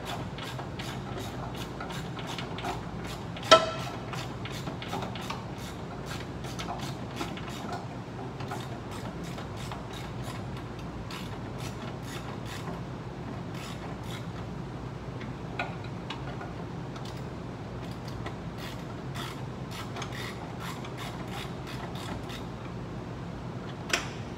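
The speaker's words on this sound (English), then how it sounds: "I'm gonna turn the nut on this one instead of turning the bolt" Faint, sparse mechanical creaks and small clicks from a wrench turning a nut on a bolt behind the front-end gearbox of an EDGE machine, with steady low background hum and no talk.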